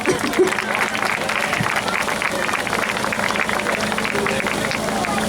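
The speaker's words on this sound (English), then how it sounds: "everyone, a round of applause for Jordana" A crowd at a Baltimore food allergy charity walk applauds steadily for an honoree called up to the front, a dense, even wash of clapping that runs throughout, with crowd babble mixed in.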